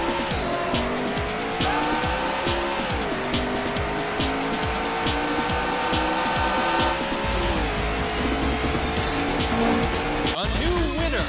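Race cars roar through the Daytona USA arcade racing game, engines whining and shifting pitch as they accelerate, with squealing tires and a closing skid, loud and continuous throughout.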